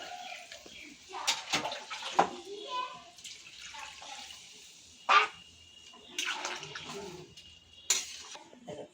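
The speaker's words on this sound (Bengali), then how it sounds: "সামান্য একটু জল দিয়ে দিচ্ছি" A small splash of water goes into a cooking pot of taro and prawn curry. Soft, close pouring and splashing comes in several short bursts, with a voice faintly in the background.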